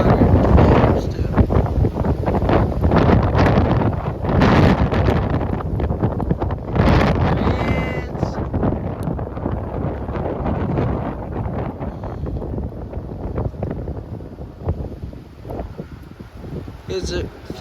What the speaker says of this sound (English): It's 50 mile an hour winds outside, or winds are like 40, but the gusts are up to like 50 plus, almost.